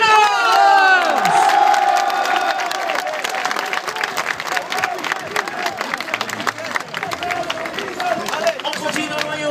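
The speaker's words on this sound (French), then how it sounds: "Applaudissements pour Stergos Marinos" Football supporters at a Sporting club fan day applaud and cheer as a new player is presented, loud crowd clapping with shouts and whistles that settle into steady applause.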